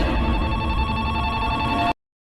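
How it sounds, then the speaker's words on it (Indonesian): A telephone bell rings continuously and loud for about two seconds, then cuts off abruptly into silence. "telepon itu masih saja berbunyi."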